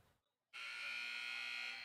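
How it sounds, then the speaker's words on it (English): A basketball game buzzer sounds for a timeout in a high school varsity gym, a steady electronic drone that cuts in after a brief quiet moment and holds on, clear and fairly loud. "And there's the buzzer."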